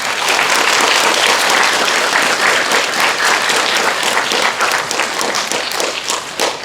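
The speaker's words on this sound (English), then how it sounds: "You want to give them a pretty big round of applause." Sixth-grade students give school administrators a loud, dense round of applause at a beginning-of-school gathering, sustained throughout and thinning slightly near the end.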